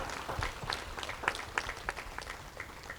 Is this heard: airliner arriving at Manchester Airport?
no